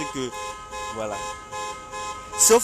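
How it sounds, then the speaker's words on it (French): A parked car's alarm siren going off with no one inside, steady harmonic wailing tones under someone talking, with a sharper blaring burst near the end. "cette sirène de cette voiture qui vient donc d'être déclenchée"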